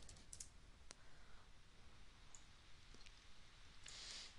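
Soft clicks of typing on a computer keyboard, a few scattered faint keystrokes at close range in a quiet room with no talking.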